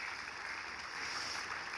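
Audience applause for curator Carmen at an art conversation event, a soft, distant and steady patter of many hands with no voices.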